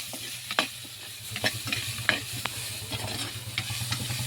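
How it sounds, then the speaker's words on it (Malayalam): Onions cooking with salt in a pan for a hamour fish curry, sizzling steadily with a low hum while a utensil stirs them in a few sharp scraping strokes. "കുറച്ച് ഉപ്പിട്ട് കൊടുക്കാം നന്നായിട്ടൊന്ന് വഴണ്ട് വരട്ടെ"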